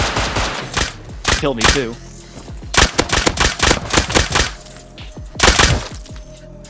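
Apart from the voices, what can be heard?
pistol gunfire in video game Rust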